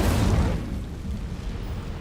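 An Incendio fire spell goes off in Hogwarts Legacy, a sudden whooshing burst that flares loudly at the start and then settles into a low, rumbling crackle.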